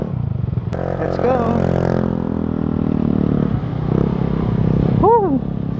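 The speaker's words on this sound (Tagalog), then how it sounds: "ang ingay ng motor mo ah!" A Benelli 502C motorcycle engine drones steadily while riding, heard close up with wind and rumble, as a voice shouts over it.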